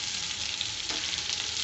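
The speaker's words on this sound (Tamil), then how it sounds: "இதையும் நல்லா வதக்கி விட்டுக்கோங்க" Onions sauté for onion chutney with unpeeled garlic, a continuous even hiss of frying oil with a brief stirring scrape midway, close and steady, no talking.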